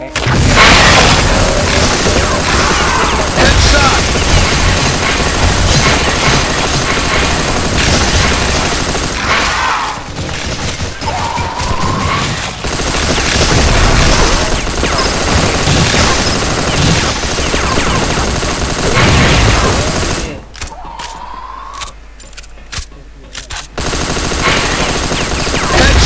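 Gunfire from the CrossFire video game, with loud sustained bursts of automatic shots and booming blasts that run almost continuously, broken by short pauses and a few sharp ricochet-like tones.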